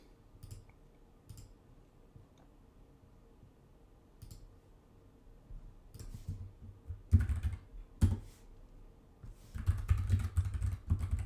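Keystrokes on a Mac computer keyboard while a shortcut is entered in system settings: a few sparse, quiet taps at first, then louder, denser bursts of clicking and clattering keys toward the end.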